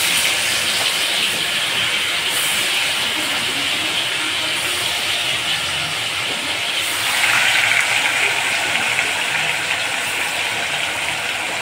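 Ground onion and tomato paste hits hot oil in a pan for a Bengali fish curry, giving a loud, continuous broadband sizzle and hiss that intensifies partway through, with no talk.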